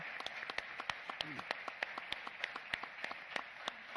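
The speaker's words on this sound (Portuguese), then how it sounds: "Bárbara Pereira, uma salva de palmas." A live audience at a panel event gives a round of applause, with sharp individual claps ringing out in an irregular rhythm, fairly faint and steady throughout.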